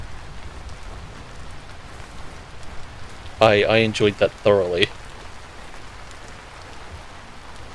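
Rain falls on forest leaves in the video game Vintage Story, a steady soft patter and hiss running throughout, with a brief stretch of speech partway through.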